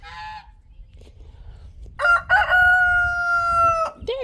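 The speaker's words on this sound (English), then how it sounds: "Crazy rooster." A rooster crows once loudly and close by, a long drawn-out harsh call after a brief earlier squawk, over quiet outdoor background.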